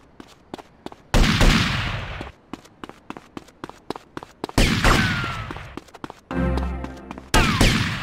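Gunfire in GTA Vice City Stories: repeated loud, sharp shots in bursts, with long bright blasts and rapid cracks, one stretch carrying a buzzing rattle, heard close with no voices.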